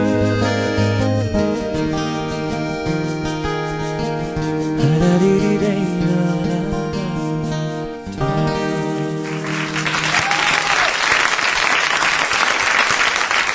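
A live band playing for a singer at a 2005 radio concert gives way to a burst of loud crowd applause and cheering from the audience, the clapping dense and sustained over the final seconds.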